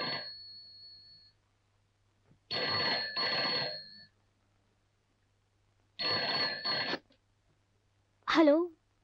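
A telephone rings in a Hindi horror film scene, with two long bursts of bright electronic trilling that stop abruptly, framed by short spoken lines before and after.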